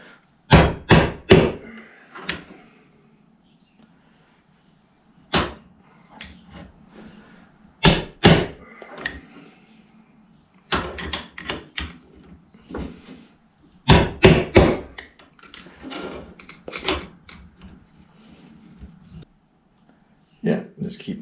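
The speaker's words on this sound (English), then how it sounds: "Yeah, just keep knocking at it and it'll eventually come out." A motorcycle front end has its thick fork seal knocked out with a hammer: sharp metallic strikes come in clusters of two to four, separated by quiet pauses, close and fairly loud, with no talking.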